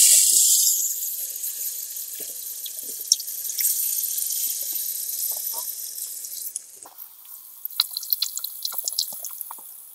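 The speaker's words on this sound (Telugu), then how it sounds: "ఇప్పుడు మనం చింతపండు పులుసు పోసుకోవాలి" Tamarind juice pours into a pot of village-style fish curry, a bright continuous splashing stream for the first several seconds, then softer trickles and scattered drips.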